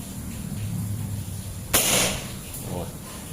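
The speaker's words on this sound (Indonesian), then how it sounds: "Oke, tembakan pertama batu bata sebelah kiri." A single sharp crack from a folding PCP air rifle firing a mini slug into a brick, followed by a brief crumbling burst as the brick shatters, then a fainter second tick; steady background hum throughout.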